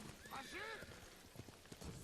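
Horse in the video game Ghost of Tsushima whinnies in a rising, wavering neigh over clip-clop hooves, with someone talking quietly underneath.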